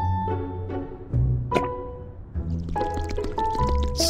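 Milk is poured over flowers for a homemade facial mask, giving short liquid pours and splashy drips in separate bursts, fairly close and moderately loud, with no voices.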